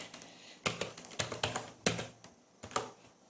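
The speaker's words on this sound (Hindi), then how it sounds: "तो मैंने फिर से नाम दे दिया और एंटर प्रेस कर रहा हूं" Keys clack on a computer keyboard as a folder name is typed, then a firmer press of Enter; irregular, fairly close taps with brief gaps, alone without talk.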